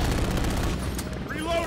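Close, continuous full-auto M13B rifle fire in the shooter Modern Warfare 3, one dense unbroken burst, loud and steady, tapering as a faint tonal game sound rises near the end.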